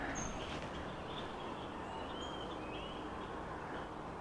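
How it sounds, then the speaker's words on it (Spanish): Birds sing at dawn near a mountain cabin in Altotonga, Veracruz, giving a few faint, scattered high chirps over a steady hiss of outdoor ambience. "el sonido de los pájaros. Escuchen."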